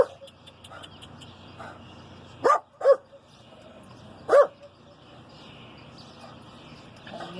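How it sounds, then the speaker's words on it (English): A dog barks in a few short, sharp bursts, a double bark followed by a single one after a pause, fairly close over a quiet indoor background. "Yes, the dog's barking is a total normal thing."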